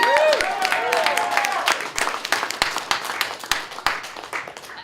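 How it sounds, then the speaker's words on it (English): A crowd at a New Hampshire political rally claps, starting as dense applause and thinning into scattered, sharp individual claps, with voices and cheers mixed in. "Give yourselves a round of applause for being here today"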